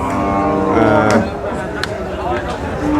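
A cow lows loudly and close by at a cattle market, with people talking over it in a busy outdoor setting.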